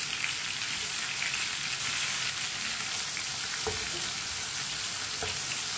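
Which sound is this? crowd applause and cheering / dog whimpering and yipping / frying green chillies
frying green chillies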